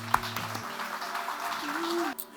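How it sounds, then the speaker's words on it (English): Applause from an audience at a 2021 State of the City address, a steady wash of clapping lasting a couple of seconds with faint hum beneath, no voices on top. "Please join me in giving them a round of applause for all their hard work."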